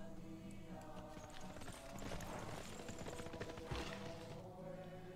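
A horse unit's hooves clip-clop steadily in the Civilization 6: Gathering Storm strategy game, a quiet rhythmic series of clops layered over soft game music.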